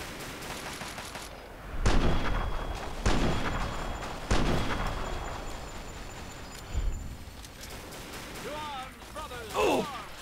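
Gunshots in modded Fallout 3: several sharp reports spaced a second or two apart stand out over background noise, with a voice speaking near the end.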